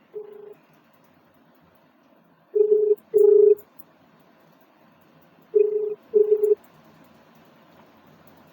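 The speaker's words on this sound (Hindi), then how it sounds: "अब आपके सामने ही उसको हम फ़ोन लगाते हैं" A phone call connects and rings, with several short electronic ringback tones in pairs separated by long quiet gaps, clear against a faint background hum.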